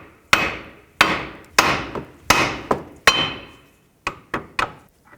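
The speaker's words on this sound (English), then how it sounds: "Use a hammer, hit the knuckle right here." A steel hammer strikes the steering knuckle of a 2001-2007 Toyota Highlander to break the outer tie rod free: about nine sharp, ringing metallic blows, loud and close, spaced irregularly with ringing decay between them.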